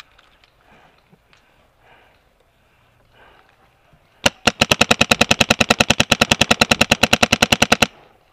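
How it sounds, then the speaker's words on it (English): Automatic gunfire in a first-person shooter game: after quiet rustling, a rapid burst of roughly thirty-five evenly spaced, loud, sharp shots rattles off for about four seconds, then stops abruptly. "Watch, he's shooting at you."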